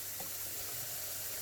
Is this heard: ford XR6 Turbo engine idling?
no